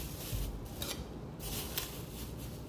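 A chayote being peeled in a home kitchen, a close, continuous scraping and rasping with uneven short strokes and no talk over it.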